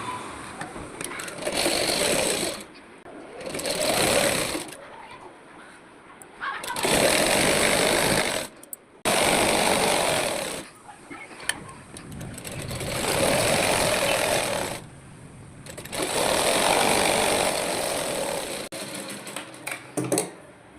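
A sewing machine double-stitches the seat seam of palazzo pants in about six close, loud bursts of rapid whirring, each lasting a second or two and separated by brief pauses.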